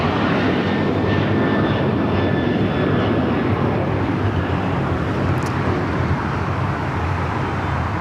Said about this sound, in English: Southwest Airlines Flight 427 coming in from Dallas Love Field is 737 MAX 8 going around